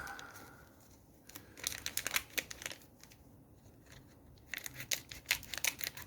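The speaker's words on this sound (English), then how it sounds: "let me grab my scissors" Scissors cut into the plastic packaging of a card tin with a run of sharp snips, crinkling and tearing of plastic, close up and fairly quiet, with a lull in the middle before the snipping resumes.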